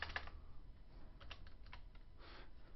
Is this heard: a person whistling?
no